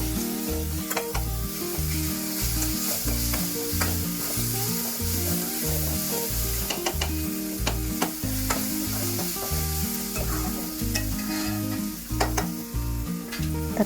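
Tomatoes, onions and salt sautéing for a crab fry, with a steady close sizzle and continuous rhythmic stirring and scraping throughout, no voices.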